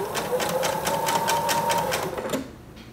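A home sewing machine stitches a seam around a curve on a lined baby romper, a steady rapid mechanical whir with a fast chattering pulse and a faint hum that stops near the end.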